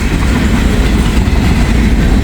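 A freight train with empty and loaded auto racks, empty container cars and boxcars rolls on the tracks while slowing for an eastbound train, a steady loud rumble with dense clickety-clack from the wheels and no talk.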